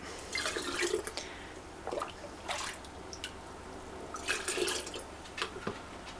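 Homemade vegetable stock is ladled and poured into canning jars in a few short splashing bursts with drips between, close and fairly quiet, with no talking.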